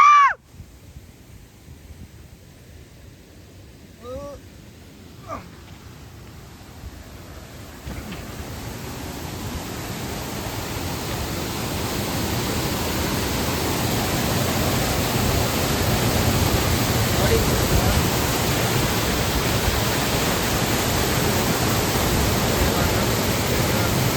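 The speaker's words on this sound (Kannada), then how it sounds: "ಇಲ್ಲಿಂದ ನೀರು ಕೆಳಗೆ ಧುಮುಕುತ್ತೆ" Barkana waterfall near Agumbe plunges down, its roar a broad, steady rush that swells and stays loud and constant after a few faint, brief sounds at the start.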